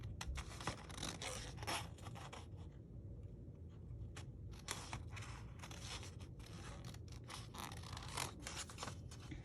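Scissors snip through paper while a Hello Kitty card is cut out, a close, quiet run of crisp crunching cuts in irregular bursts with brief pauses between them and no talk.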